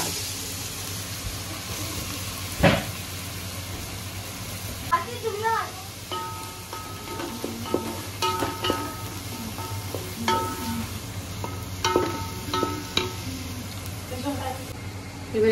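Onions fry with butter and black cumin in a pan for pav bhaji, giving a steady sizzle with scattered stirring clinks and scrapes, and a voice speaks over the cooking.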